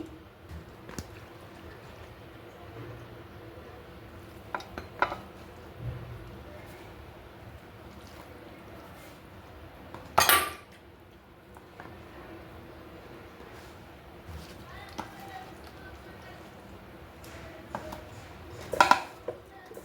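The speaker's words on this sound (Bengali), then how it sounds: "এবার আমি আলতো হাতে মাছ দিয়ে দিচ্ছি" Small kachki fish are eased gently into a pan and stirred, making quiet, sparse scraping and soft clinks with two sharper metallic knocks against a low kitchen background.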